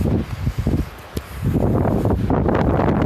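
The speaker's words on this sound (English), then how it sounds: "Man, it really is windy." Strong gusting wind during a March blizzard in Denver, Colorado, roaring broadly and steadily against the microphone after a few brief softer bursts.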